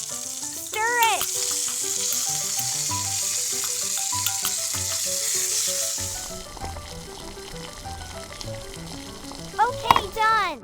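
A miniature octopus sizzles and fries in a tiny pan. It is stirred with light scraping, and the steady hiss fades partway through as quiet clinking continues. Music plays throughout.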